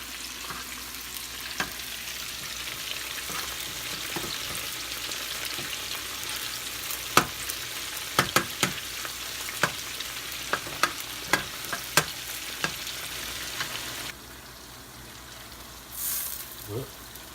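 Chicken pieces stir-fry for Thai cashew chicken in a tiny kitchen, with a constant hissing sizzle broken by sharp utensil clacks and scrapes against the pan. The sizzle drops quieter near the end.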